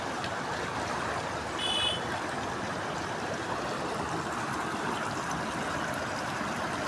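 A flooded village stream rushing after heavy rain, a continuous broadband roar of fast-flowing water, close and steady throughout with no voices.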